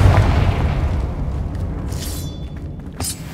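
A Confringo fire spell bursts in Hogwarts Legacy, a deep booming blast that rumbles and fades over a few seconds, followed by a small crackling pop near the end.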